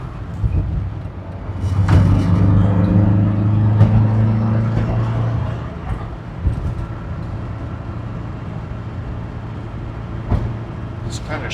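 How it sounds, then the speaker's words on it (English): A 1967 Austin Mini Cooper S Mk I with 37,000 original miles revs up from low engine hum into a rising acceleration drone that peaks early, then settles to a steady run with a few knocks and road noise. "Now I'm going to try to accelerate a little bit."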